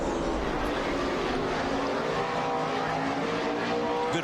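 NASCAR Cup race cars circling at Sonoma in 2007, Tony Stewart and Jamie McMurray dueling, a continuous loud engine roar with slight pitch sweeps, held steady throughout.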